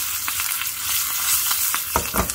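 A tempering of cumin, white sesame, asafoetida, two green chillies and curry leaves crackles in hot oil, a bright continuous sizzle punctuated by sharp spluttering pops, strongest near the end.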